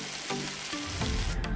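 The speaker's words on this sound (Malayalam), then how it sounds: "അപ്പോൾ നമ്മുടെ ചിക്കൻ ഇവിടെ മീഡിയം ഫ്രൈ ആയിട്ടുണ്ട്." Chicken pieces sizzle and fry in a pan for a Christmas biryani, a steady loud crackle with stirring that swells toward the end.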